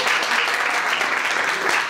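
A comedy club audience applauding loudly, a dense, even wash of many hands clapping close by throughout, with no voices over it.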